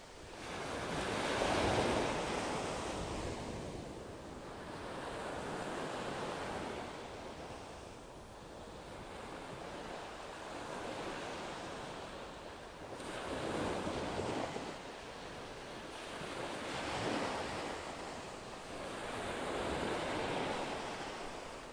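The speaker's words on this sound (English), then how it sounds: "I just love the sound of the waves rolling in here." Ocean waves roll in and break on Vanderbilt Beach in North Naples, Florida, in a steady cycle of surges swelling and fading every few seconds, with light wind rumble on the microphone and no voices.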